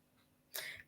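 A single short, sharp sneeze bursts out after a quiet moment, close and moderately loud, with a brief breathy tail.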